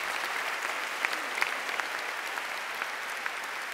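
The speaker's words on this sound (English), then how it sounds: "You can clap for that." A commencement ceremony audience gives steady, fairly distant applause, a continuous wash of clapping with a few sharper individual claps standing out.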